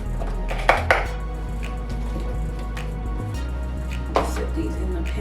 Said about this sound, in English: You just cut them in half like that